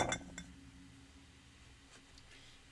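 A large ice cube and a couple of small ones drop into a cocktail glass for a Gotham cocktail, giving a bright clink at the start and another shortly after, then faint quieter ticks over a low, quiet room.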